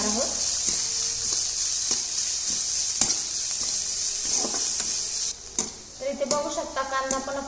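Chopped onion fries on medium gas, a loud, continuous sizzle broken by scraping stirs, then the sizzle suddenly drops away and a faint voice and tones follow.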